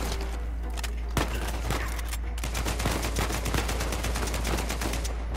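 Rapid gunfire in the video game Uncharted 4, a dense fusillade of sharp shots and automatic bursts cracking close and loud in quick succession, with no voices.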